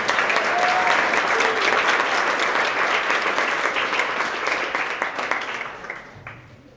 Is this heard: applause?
yes